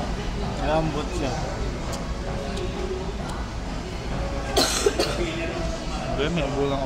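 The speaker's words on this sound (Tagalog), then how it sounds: "may ubo lang ubo" A few coughs ring out amid background chatter and clatter, one sharper burst standing out partway through.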